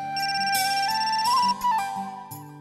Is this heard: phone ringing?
yes